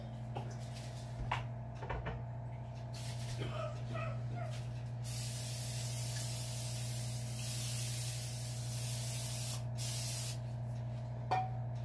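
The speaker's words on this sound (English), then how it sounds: "I'm going to spray my pan." A sustained spray of cooking spray onto a pan hisses for several seconds, preceded by a few clicks and knocks, with a steady low hum underneath.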